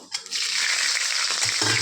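Radhuni seeds hit hot oil in a kadai with a short knock, then sizzle and crackle steadily and loudly close by for about two seconds, alone without talk.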